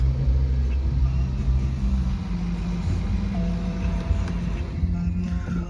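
A BMW X3 20d with a 2.0-litre diesel engine and automatic gearbox rumbles at a steady low idle, a constant deep hum with no talk over it.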